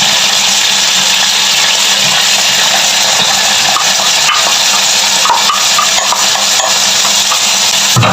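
Onions frying in a pan for goulash, a loud, continuous broadband sizzle with occasional clinks and stirring noises, close up, and no talking.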